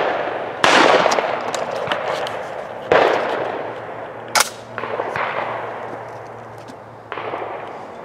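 Shotgun blasts at sporting clay targets on an outdoor range, four or five sharp loud reports spaced a few seconds apart, each trailing off in a long echoing decay.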